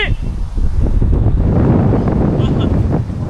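Strong outdoor wind buffets the microphone with a loud, continuous low rumble throughout, while people talk and laugh nearby.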